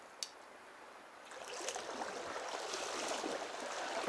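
A Wisconsin trout river's current rushes steadily, a broad wash of flowing water that grows louder and fuller after the first second and holds alone without talk.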